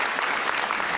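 Steady applause fills a council chamber during a Surrey city council committee meeting as a delegation speaker from a manufactured homeowners association comes forward, a continuous even clapping with no voices over it.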